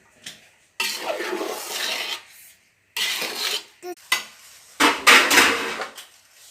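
Rice and masala being stirred together in a pot for mandi, with bursts of scraping and clattering of a spoon against the metal pot separated by short pauses, close and fairly loud.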